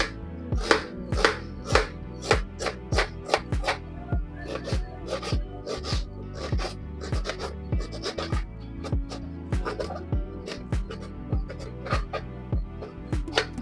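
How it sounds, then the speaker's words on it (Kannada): A knife chops onions into small pieces on a board, a close, steady series of sharp taps repeating roughly every half second over a quiet background. "ಈ ರೀತಿಯಾಗಿ ಚಿಕ್ಕ ಚಿಕ್ಕದಾಗಿ ಈರುಳ್ಳಿನ ನಾನು ಕಟ್ ಮಾಡ್ಕೊತಾ ಇದ್ದೀನಿ"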